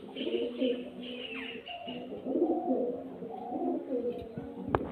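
Pigeons coo softly in a loft of fancy breed birds, a few low repeated calls close by mixed with faint rustling and background noise.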